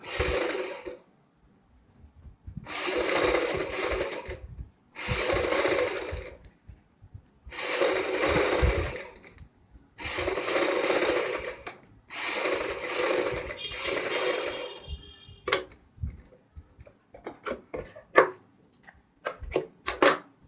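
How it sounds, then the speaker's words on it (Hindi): A sewing machine double-stitches a collar strip on a high-neck kurti, running in about seven loud, steady bursts separated by short pauses, followed by scattered light clicks and taps at the end. "पट्टी पे हम यहाँ पे डबल सिलाई लगा लेंगे।"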